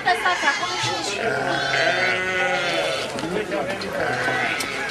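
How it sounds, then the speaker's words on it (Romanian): Sheep bleat on a farm, several overlapping wavering cries close by and fairly loud, running steadily while people talk over them. "Haideți afară că au venit oile aici."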